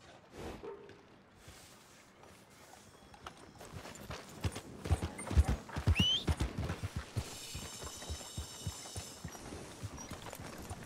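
Horse hooves clip-clop at a steady walking pace, starting quietly and growing louder and closer, with a brief high squeal partway through.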